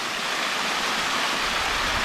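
Rushing waterfall at Rockhole in Kakadu, Northern Territory, a dense, steady broadband roar of falling water, close and loud with no voices.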